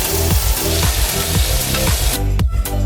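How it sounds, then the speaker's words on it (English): Tomatoes sizzle and brown in hot oil, a loud, dense, continuous crackling hiss with rhythmic pulses, close up and without talk. "For the tomatoes, we're just going to let them brown on one side."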